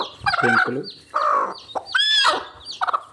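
A hen clucks while hatching her chicks, giving several close, throaty clucks and calls in short bursts separated by brief pauses.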